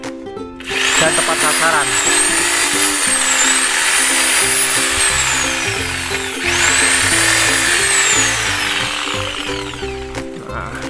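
A high-RPM pruning machine trims dragon fruit plants with a loud, continuous motorised whine that rises and falls in pitch as it cuts. Someone talks over it.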